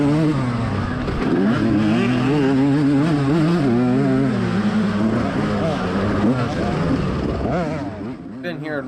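125cc two-stroke dirt bikes race in a GNCC off-road event at Burr Oak. Engines rev hard and shift continuously close up, their pitch rising and falling, and a rider's voice sounds intermittently over the engine noise.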